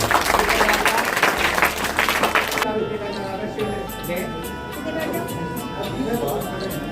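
Loud applause from a crowd at a school Independence Day event welcoming Deepak Raj, dense clapping for about two and a half seconds before it cuts abruptly to a quieter background with music-like tones.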